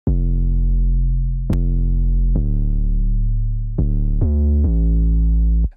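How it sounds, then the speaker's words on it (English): A sine-wave 808 bass plays the low part, deep sustained notes gliding between pitches with sharp attacks, loud and alone with no other instruments. "is an 808, and it sounds like this."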